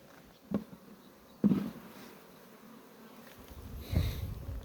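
Honey bees buzz faintly around a beehive during hive splitting, a low, quiet drone with a few brief soft bumps and rustles close by.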